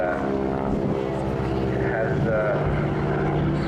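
A supercharged propeller aircraft with a constant-speed prop and retractable undercarriage flies at the Swansea airshow, giving a steady, loud droning engine note throughout, with a voice talking over it.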